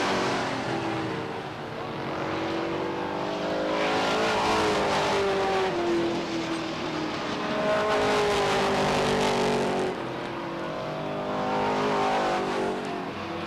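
Race cars roar around the oval at Beech Ridge Motor Speedway in 1991, a loud continuous wall of engine noise with rising and falling drones as cars pass close by.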